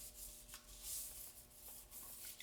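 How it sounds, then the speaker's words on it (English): Toilet brush scrubbing around a toilet bowl to remove lime and scale buildup, a soft repeated swishing rub in short strokes, close and faint with no talking. "rub around the toilet and make sure that we're removing any of that line and scale buildup"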